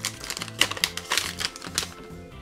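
Plastic packaging crinkles and rustles as the package of a Goldenfir T650 240GB SSD is unwrapped, a quick run of sharp crackles and taps close to the microphone.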